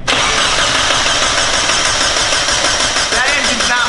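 A freshly built car engine fires up for the first time and runs steadily, a loud, continuous mechanical roar with no knocking, as people talk over it.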